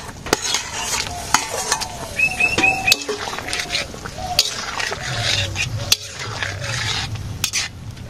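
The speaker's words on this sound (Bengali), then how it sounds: "মাছও দিয়ে দিই।" Pangas fish goes into a simmering village-style potato and drumstick curry and is stirred, with steady sizzling and bubbling under scraping and clinking of a utensil against the pot, close and continuous.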